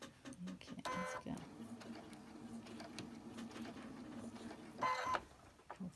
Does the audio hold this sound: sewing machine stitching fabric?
yes